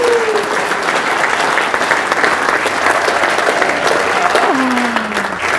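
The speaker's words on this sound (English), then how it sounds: "A nice round of applause." Sustained applause from a crowd at a meeting, steady and loud for several seconds, with a voice speaking faintly over it.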